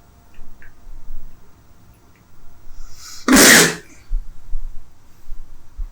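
A single sharp sneeze bursts out near the middle, loud and close, against a quiet background with faint ticking.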